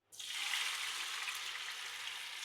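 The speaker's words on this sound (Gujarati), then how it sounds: "આપણું આ તેલ ગરમ થઈ ગયું છે. આપણે જે આ ગ્રેવી બનાવી એ આ તેલમાં નાખવાની." Gravy poured into hot oil bursts into a loud, steady sizzle that starts abruptly and holds strong, close and alone without talk.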